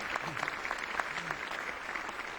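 Sustained audience applause fills a Rotary Club luncheon room, with steady, dense clapping from many hands and no break across the whole stretch.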